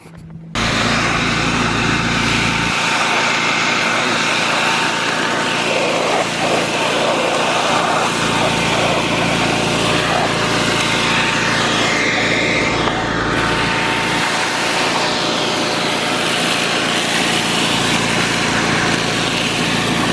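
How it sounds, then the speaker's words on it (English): A shop vacuum cleans dust and fine gravel out of the riffle tray of a Keene 151 dry washer used for gold prospecting in Arizona, running as a loud, steady motor whine close by for the whole stretch. "obviously we're vacuuming out the ripple tray"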